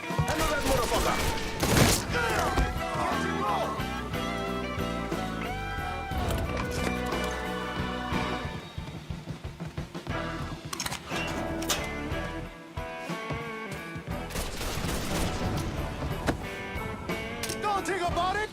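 Gunfire in the video game Mafia III, rapid bursts of shots and thuds mixed over game music and shouting voices, dense and continuous.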